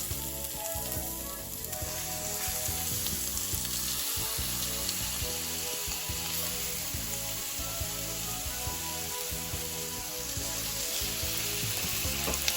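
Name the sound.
shrimp frying in olive oil in a pan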